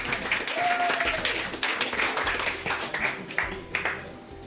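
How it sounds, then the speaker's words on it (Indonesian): A high school class claps for a student group in a classroom, a short burst of scattered, uneven hand claps lasting a few seconds, with a few voices murmuring alongside. "Kasih aplaus dulu untuk kelompok ini."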